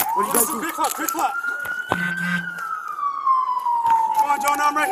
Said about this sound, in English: Hey, go shut those sirens off